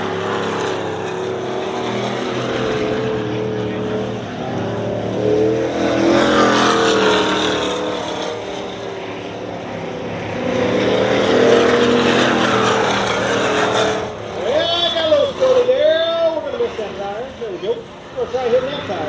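Race cars run green flag laps at Dirtona Raceway dirt track, a continuous roar of engines swelling and fading as cars pass, with a loud rising and falling whine near the end, under steady talk from a voice.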